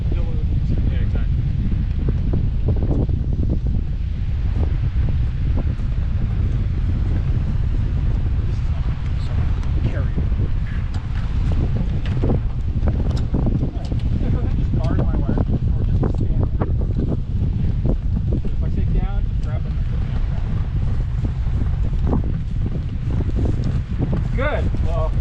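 High wind blowing around a Wills Wing Alpha 235 hang glider during ground handling, a constant loud roar of gusts buffeting the microphone with faint voices underneath.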